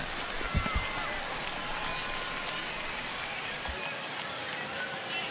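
Crowd noise rises in a broad, continuous roar during a full-count at-bat in the baseball video game MLB The Show 20, with a few low thumps early on and a steady mid-level din throughout.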